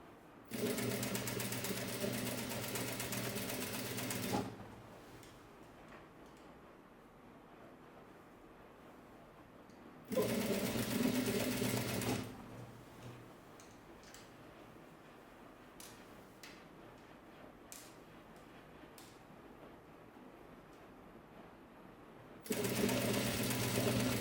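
A sewing machine runs in three loud, steady bursts while stitching an ao dai seam, with quiet pauses of faint room noise between the runs.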